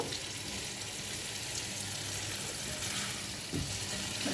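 Spice paste with potatoes frying in a pan for coriander-leaf aloo dum, a steady soft sizzle running throughout with a brief stirring clatter near the end, no talking.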